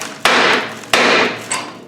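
A big hammer strikes a Land Rover 300Tdi front axle with three loud, ringing metallic blows about two-thirds of a second apart, the last one slightly weaker.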